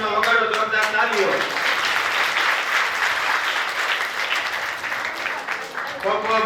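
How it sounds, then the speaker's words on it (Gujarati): Loud applause from a gathered audience at a school hall inauguration, honouring the donors, a dense sustained clapping that fills the space after a speaker's voice and slowly thins out. "આ સર્વ દાતાશ્રીઓના માનમાં વગાડો જોરદાર તાળીઓ"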